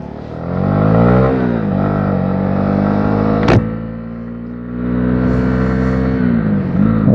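A Honda CB125R motorcycle pulls away on the road, its engine note steady and loud, with a sharp click partway through and the exhaust fading slightly before rising again as it rides off.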